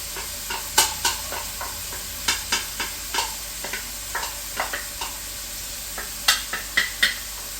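Chopped celery and carrots sautéing in a pan, a soft hiss beneath a series of sharp, regular scraping and tapping strokes as the vegetables are stirred, close by and without speech.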